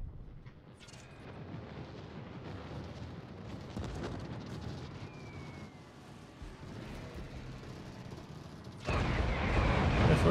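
Level bombers dropping bombs in a space battle game: a steady roaring rumble of explosions and machinery with faint tonal sweeps. A louder, harsher blast swells near the end.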